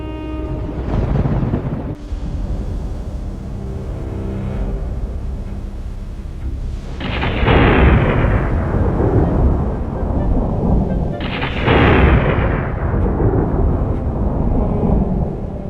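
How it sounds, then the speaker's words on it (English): Heavy thunder rumbles and cracks during a storm, with two loud sharp claps that roll into long sustained rumbling over a constant background roar. "This storm wasn't in the flight plan."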